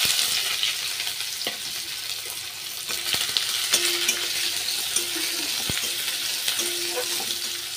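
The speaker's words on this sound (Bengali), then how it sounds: "এবার আমি পেঁয়াজ আর রসুনটা দিয়ে দিলাম।" Onion and garlic fry in hot oil in a wok, giving a steady loud sizzle with a few light clinks of a utensil against the pan.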